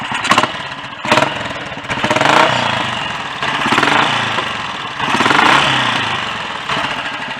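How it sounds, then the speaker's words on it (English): A warmed-up single-cylinder Royal Enfield Bullet 500 motorcycle engine idles close by with a rapid, uneven thumping beat, swelling and easing in loudness over several seconds. "the engine's been running for a good few minutes now and warmed up and settled down"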